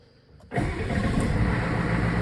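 An older 1980-86 Ford truck diesel engine, already warm, cranks briefly and fires up quickly, then settles into a loud, steady, rumbling idle close by.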